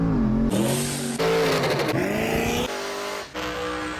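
An LS3-powered Corvette on a dyno revs hard and loud, its engine note rising and falling through several throttle blips with changing pitch, close by and alone with no talk.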